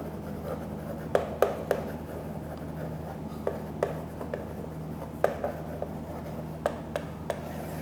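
Chalk or marker strokes on a board during a physics lesson on the cross product of vectors, a series of sharp taps and scratches at irregular intervals over a steady room hum, with no talking.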